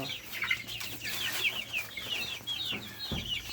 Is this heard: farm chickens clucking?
yes